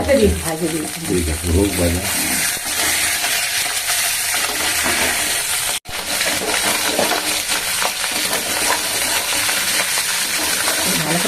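Vegetables for a Bengali chorchori frying in a pan, a steady broadband sizzle running the whole time with a brief cutout midway, while a person talks over the start.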